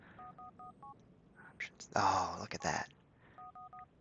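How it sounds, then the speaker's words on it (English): A mobile phone ringtone in the Grand Theft Auto 4 video game: short bursts of paired electronic tones ring at the start and again at the end, with someone speaking in between. "I really wish we could like disable this ringtone here."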